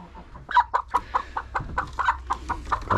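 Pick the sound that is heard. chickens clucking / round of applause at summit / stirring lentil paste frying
chickens clucking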